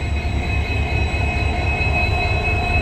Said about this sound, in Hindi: ये हमारा लोकोमोटिव जो अभी हो रहा है चेंज